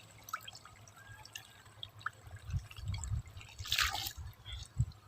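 Water from a tap splashing and dripping into a container, with irregular drips and a brief louder gush partway through.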